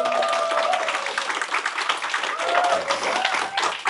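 Employees of a business clap together indoors, a busy patter of many hands that swells and dips across a few seconds, with some crowd voices beneath.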